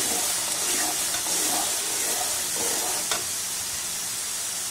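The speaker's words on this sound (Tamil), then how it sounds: "சுண்டைக்காய் எந்த அளவுக்கு வதங்குதோ எண்ணெயில்" Turkey berries sauté in oil for a tamarind curry, giving a dense, steady, close hiss of frying with faint scraping from stirring throughout.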